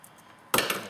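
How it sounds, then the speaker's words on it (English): Wire being snipped to length with cutters while a remote start alarm system is prepped, a single sharp close click-snip after a brief quiet moment. "these two are a little different lengths, so I'm just going to snip this"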